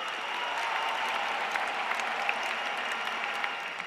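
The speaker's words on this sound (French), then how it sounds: "en demandant aux jeunes d'applaudir le président" Audience of young people applauding President Alassane Ouattara at the Francophonie Games in Abidjan, a continuous moderate wash of clapping heard from a distance with a few sharper claps standing out.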